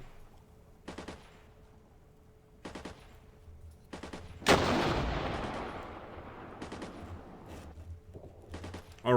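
Recoilless rifle fire in the Armored Brigade Cold War game: one loud, sharp blast with a long rumbling decay, set among several fainter, shorter distant shots.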